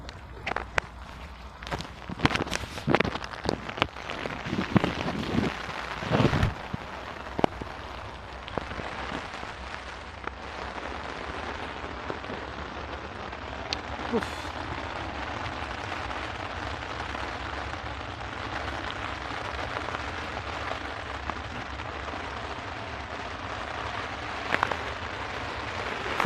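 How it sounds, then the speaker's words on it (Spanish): Rain starting to fall again outdoors, a steady hiss of drops on a surface, with scattered knocks and footstep-like taps early on before settling into continuous even patter. "Empezó a llover otra vez."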